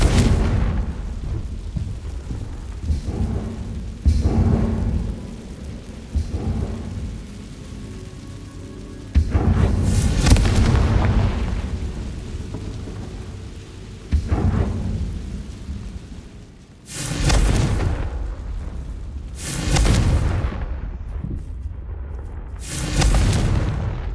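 Confringo fire spell explosions go off in Hogwarts Legacy. Several heavy booming blasts, close and loud, come at irregular intervals, and each one rolls off into a rumbling decay. No one speaks.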